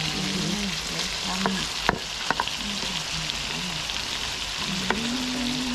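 Sliced onion sizzles steadily in a hot wok for a Thai sweet and sour stir-fry, with a continuous frying hiss broken by several sharp scrapes and clanks of the spatula stirring close by.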